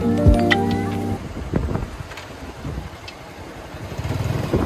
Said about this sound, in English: I could not believe you can go on the international runway with a motorbike.